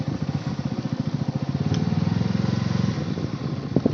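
A motorcycle parked at a temple idles with a steady, rhythmic low chugging, close and fairly loud for about four seconds, with no voices over it.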